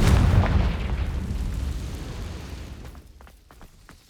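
A Confringo blasting spell explodes in Hogwarts Legacy: a heavy, rumbling boom that is loudest at the start, then rolls away over several seconds and leaves faint crackling debris behind.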